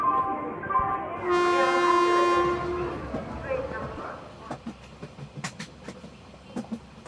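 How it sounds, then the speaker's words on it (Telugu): A passenger train pulls into a railway station, sounding a long, loud horn blast before its rumble fades into scattered clanks and clicks, with people's voices in the background. "ట్రైన్ వస్తున్నట్టుందిరా"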